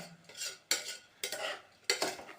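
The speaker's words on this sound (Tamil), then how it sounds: "பாஸ்மதி ரைஸை எடுத்துட்டு ஒரு 2 பரட்டி விட்டுக்கலாம்." Basmati rice being stirred in a pot with vegetables for pulao: three close, dry scraping strokes of a spoon, each a short rustling sweep separated by brief pauses.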